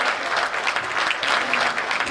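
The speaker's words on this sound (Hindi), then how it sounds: "एक बार तालियां बजाइए जरा" Steady, dense applause from an audience at a Hindi comic poetry gathering, many hands clapping together in a continuous, even roar for about two seconds with no voices over it.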